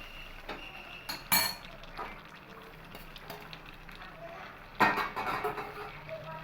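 A spoon stirs fried prawns and potatoes through a pan for lau chingri, giving a couple of sharp metallic clinks against a quiet, low background with soft scraping in between.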